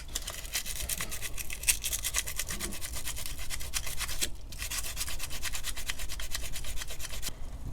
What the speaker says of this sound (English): with the sandpaper and just rub that piston clean